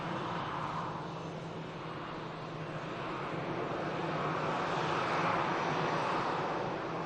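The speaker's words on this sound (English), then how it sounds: "TUI is now fully established for 2-3 right for the touchdown." A TUI airliner on final approach for touchdown on runway 23 right at Manchester Airport gives a steady, broad jet roar heard from a distance, swelling slightly toward the end with no voices.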